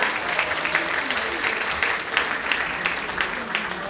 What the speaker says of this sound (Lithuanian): Aplodismentai dar kartą.